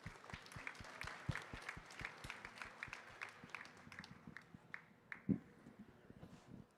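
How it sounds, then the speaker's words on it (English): Round of applause from a convention audience at the American Farm Bureau Young Farmers and Ranchers Discussion Meet, rapid near claps that thin out over several seconds, with one louder clap. "let's give a round of applause for Tommy"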